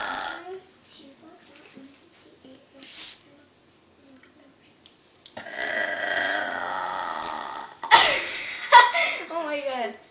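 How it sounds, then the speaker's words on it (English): Burps in a children's burping contest: a few short burps early on, then a long loud burp near the middle, with young voices talking and laughing around them. "you only did 8 burps"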